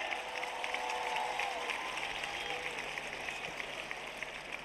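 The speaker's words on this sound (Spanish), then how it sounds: "por favor, un aplauso." Live concert crowd at a show applauding band members as they are introduced, a dense, continuous roar of clapping from a large audience, heard from a distance and holding steady for several seconds.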